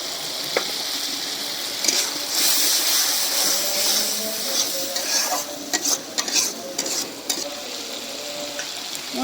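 Spice paste with green chilies is stir-fried in a pan, giving a steady broad sizzle with repeated scraping and clinks of a spatula, moderately loud and close, with no talking.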